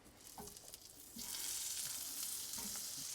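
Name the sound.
butter sizzling in a pan for shrimp scampi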